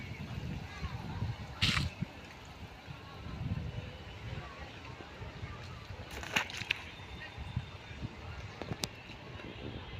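Water released from Malampuzha Dam in Palakkad rushes out through a canal, sloshing steadily in a continuous watery wash with a few brief splashes, while a voice speaks now and then.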